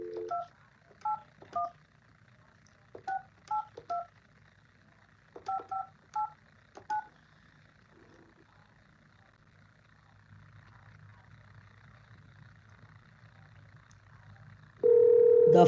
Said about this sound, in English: The phone is ringing. Hopefully she answers.